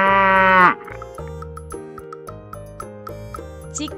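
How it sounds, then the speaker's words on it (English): A cow gives one loud, close, drawn-out moo, which gives way to a light, tinkling musical backing. "Cow."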